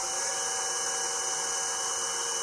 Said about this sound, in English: But over the noise of the drill, it won't matter.